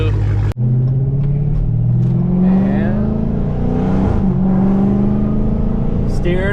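A Dodge Hellcat on newly fitted tires pulls away with a loud, close engine note that rises steadily as it accelerates, preceded by a sharp thump.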